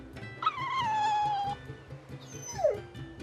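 Dog whimpering and yipping in Tales of Berseria, a drawn-out whine followed by a short falling yelp, heard over soft rhythmic game music.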